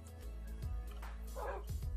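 Dogs in the Minecraft video game give a few short, quiet barks and yips at irregular moments over a faint, steady background hum.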